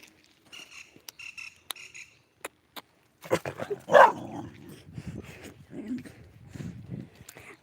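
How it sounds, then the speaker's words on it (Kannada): A dog gives a few barks and whimpers at close range amid light pattering and scattered clicks, with people's voices nearby. "ಡಾಗ್ ಉಂಟು ನೋಡಿ, ಡಾಗ್ ಬೌ ಬೌ."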